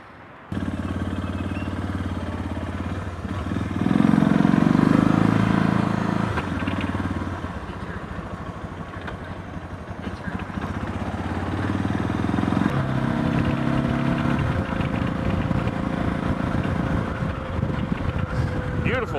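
A motorcycle engine starts up and idles steadily with low rumbling, rising to a louder rev before settling, under light wind noise.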